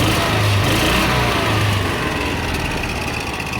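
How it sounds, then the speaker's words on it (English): A derelict John Deere Gator utility vehicle engine runs steadily with the throttle held open, a loud, close, continuous mid-pitched drone with slight fluctuation and no talking. "And I can hold the throttle now and it doesn't die."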